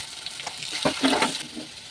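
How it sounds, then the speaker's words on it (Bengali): Potato pieces with turmeric powder fry in a shallow layer of oil in a pan, giving a short burst of crackling sizzle with some stirring and scraping, steady and close. "1 চামচ হলুদ গুঁড়ো দিয়ে ভেজে নেব।"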